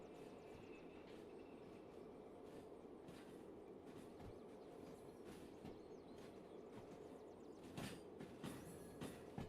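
A long freight train loaded with steel rails rumbles past as it begins to lose speed, a steady broadband roar with faint clattering of cars, holding near and even throughout.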